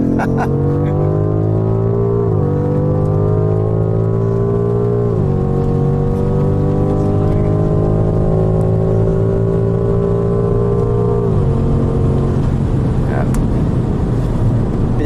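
A BMW M5 Competition launches hard from a standstill, its engine roaring loud and close as the pitch climbs steadily, drops briefly at each of several gear shifts, then climbs again, with voices talking inside the car.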